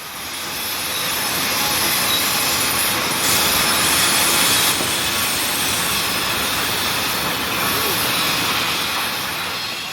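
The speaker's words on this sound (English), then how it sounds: "Slipping behind 36A is intermodal train 22M, moving at a much faster pace down the hill due to its lighter train." A lighter intermodal freight train rolls downhill at speed on a railroad line, a loud, steady broadband rumble and hiss that swells slightly in the middle of the pass, with no voices.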